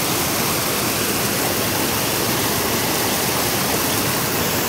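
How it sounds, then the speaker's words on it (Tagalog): A strong river current rushes past, a dense, constant roar of churning water close by, loud and unbroken with no voices over it. "Malakas ang agos."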